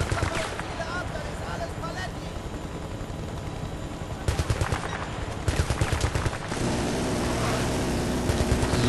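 Battlefield Bad Company 2 combat in a town erupts with rapid automatic gunfire, rattling bursts and sharper volleys over a constant battle din, with voices shouting beneath.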